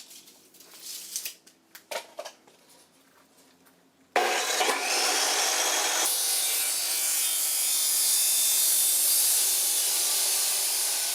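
Metal framing studs are cut, first with a few short rasping scrapes and knocks, then a loud, continuous abrasive grinding shriek that runs steadily for about seven seconds.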